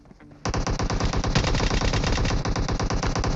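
Rapid bursts of VSS suppressed rifle fire from a PUBG match rattle out loud and close after a brief quiet start, continuing as a dense, steady stream of shots with no talking.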